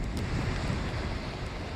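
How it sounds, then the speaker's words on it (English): A winter storm in Northern California: a steady, dense rush of wind buffets the microphone outdoors, filling the short stretch with continuous broadband roar and no voices. "The rain has intensified over the last few hours. It's windy out here as well."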